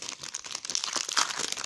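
A Pokemon TCG Solgaleo GX tin booster pack's foil wrapper is crinkled and torn open up close, giving a quick burst of crisp, rustling crackles with no talking.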